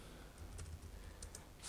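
Computer keyboard keys tapped in a short quick burst while entering a fastboot command to root an Android phone, faint clicks over low background hum, with a louder clatter at the end.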